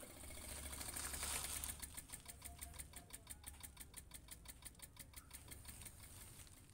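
A Suzuki Futura engine with a faulty distributor runs with a fast, steady mechanical ticking over a low hum, the clicks repeating evenly and fairly close, heard alone.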